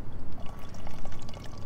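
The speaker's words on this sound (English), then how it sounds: "I do prefer to pour at an angle like this" Filtered water poured from a bottle at an angle on a hiking trail, a steady splashing trickle that swells and dips continuously, close and fairly loud with no talking.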